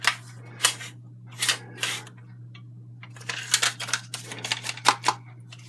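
A staple gun clicks and snaps in short, irregular bursts while canvas is stretched, several dry mechanical clacks close by, some hollow and empty as the gun runs out of staples, with a steady low hum beneath.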